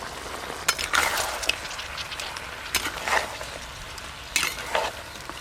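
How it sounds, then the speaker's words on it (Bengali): Ginger garlic paste being stirred into softened onions frying in a pan for a thin, mildly spiced mutton curry, with soft sizzling under irregular scraping strokes of a spoon. "আদা রসুন বাটা দিয়েও বেশ খানিকক্ষণ ভালো করে নেড়ে নেব"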